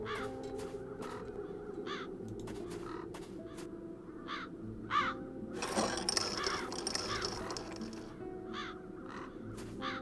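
Crows caw repeatedly over a low ambient drone in Chains of Satinav, their harsh calls coming in short bursts scattered across the scene, some near and some farther off, with a brief rustling swell partway through.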